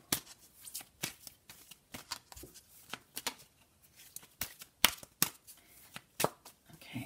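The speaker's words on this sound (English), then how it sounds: "I'm going to give these cards a proper shuffle" Oracle cards are shuffled by hand in quick, irregular riffling bursts with brief pauses, close and fairly quiet, with no speech.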